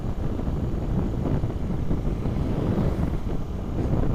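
Strong monsoon wind buffets the microphone, producing a continuous low rumbling roar with irregular gusty pulses, loud and close, without voices.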